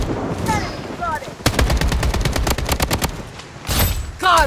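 Rapid automatic gunfire rattles through a BloodStrike match, with dense bursts of close shots and a heavy volley near the end, alongside short in-game voice callouts.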